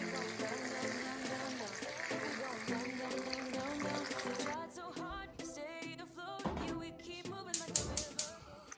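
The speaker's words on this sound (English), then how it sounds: "I'm going to pour it in the pot, but on the corner so that it will not wash out my tamales" Salted water is poured into a tamale pot in a home kitchen, a soft splashing gush against the pot's side, faint and close, with some clattering and brief sharp knocks toward the end.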